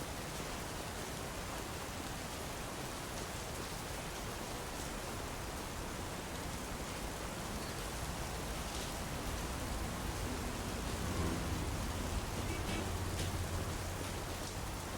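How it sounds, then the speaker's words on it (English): Rain falling outside in the Big Ambitions life-simulation game, a dense, unbroken hiss of downpour filling the scene, steady and fairly loud, with a low rumble creeping in toward the end. "Oh, lovely, it's raining outside. Love the rain."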